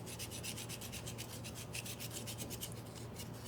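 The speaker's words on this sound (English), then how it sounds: "I'm gonna use a vegetable peeler to grate the chocolate right on the dish" A vegetable peeler shaves dark chocolate straight onto a shrimp chop salad, giving a soft, fast back-and-forth scraping rhythm, quiet and close, with no talking.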